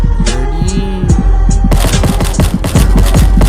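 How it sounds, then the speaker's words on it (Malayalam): Gunfire in a Roblox hide-and-seek horror game, Hide or Die: a dense, loud burst of rapid shots in the second half, preceded by droning hum and electronic tones. "നമ്മളെ വെടിവെച്ച്"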